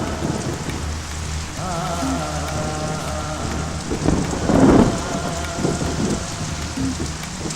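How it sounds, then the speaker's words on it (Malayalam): Heavy monsoon rain pours steadily outdoors while thunder rumbles, swelling into a louder roll partway through and then settling back under the constant hiss of the downpour. "എന്ത് മഴയാ അച്ഛാ ഇത്"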